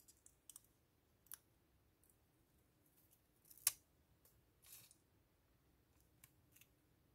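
Small scissors snip carefully around a paper embellishment decorated with gold and yellow spots, giving faint, sparse clicks and snips spread through a quiet room, with one sharper cut near the middle.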